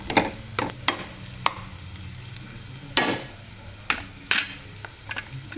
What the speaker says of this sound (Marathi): खूप जास्त नाही टाकायची आलं लसूण पेस्ट. व्यवस्थित मस्त परतून घ्यायचं.